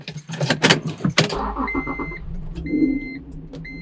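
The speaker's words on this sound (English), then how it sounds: "Gotta love that cold start right there. Hear that exhaust?" An Acura NSX fires up from cold with a loud burst of exhaust in the first second, then drops to a quieter, steady idle while short electronic chimes sound above it.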